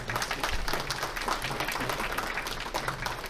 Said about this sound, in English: So clap it up for yourselves.